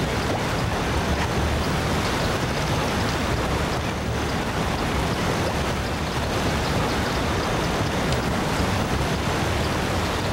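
A loud waterfall in the SpongeBob SquarePants: Battle for Bikini Bottom video game pours out a dense, steady rushing roar that fills the scene without pause, with no voices over it.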